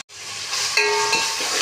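Fenugreek leaves, onions and dried chillies frying for Telangana-style rasam give a steady, close hiss and sizzle that swells after a sudden start, with faint stirring scrapes and no voices.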